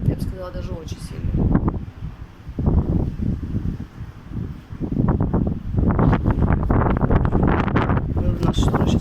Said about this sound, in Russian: И ветер очень сильный.